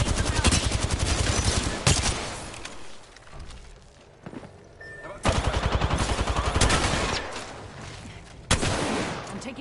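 Automatic weapon fire in an Apex Legends match, loud close bursts of rapid shots broken by short pauses, with a few sharp single reports between volleys.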